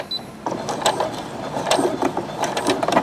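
A Brother SE625 sewing machine back stitches across a coiled rope bowl toward the center, with uneven mechanical clicks and ratcheting taps, close and alone.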